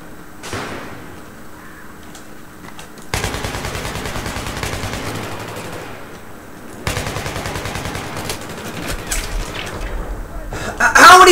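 Bursts of automatic gunfire in the Battlefield 3 video game, loud clattering volleys in two long stretches separated by quieter pauses, ending in a heavier blast.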